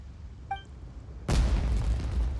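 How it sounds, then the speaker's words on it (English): Fireworks burst in the Genshin Impact video game: a short whistling pop is followed by a loud, deep boom that lingers as a rumbling roar over low background ambience. "Fireworks."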